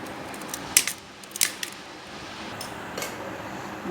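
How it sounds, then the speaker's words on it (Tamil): A knife cuts jackfruit seeds into three pieces for a curry, with a few sharp, close clicks and snips standing out over a steady background hiss. "இந்த மாதிரி ஒரு கொட்டையை வந்து மூணாக கட் பண்ணி எடுத்துக்கலாம்"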